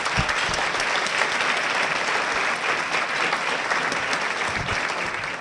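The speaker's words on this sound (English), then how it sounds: "You applauded me, and I'm so grateful for that." An indoor audience at an annual meeting gives dense, steady applause to welcome author Hank Philippi Ryan, a loud continuous wash of clapping with no talk over it.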